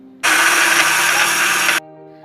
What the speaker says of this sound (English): Run the blender for a minute until you get a smooth consistency.